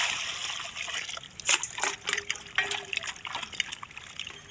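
Tapioca tubers being washed by hand in water, with uneven trickling, sloshing and splashing that rises and falls in short bursts, fairly close, with no talk over it.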